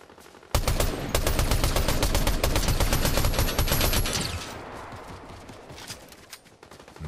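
Gunfire in Fortnite, a dense run of rapid, evenly spaced shots that starts abruptly and holds loud for several seconds, then cuts off and leaves quieter ambient game noise, with no talking.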